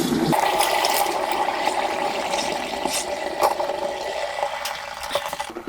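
Hot silver casting flask, poured from scrap coin silver, plunged into water: an abrupt loud rush followed by seconds of violent boiling, bubbling and crackling sizzle that slowly settles, with no talking.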